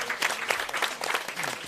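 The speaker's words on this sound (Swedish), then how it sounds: "Så jag tycker att vi förenar oss i en applåd för alla som har ställt upp här." Applause from the audience at an Almedalen 2018 panel seminar, a brief, dense burst of clapping from a crowd, fairly loud and continuous with no talk over it.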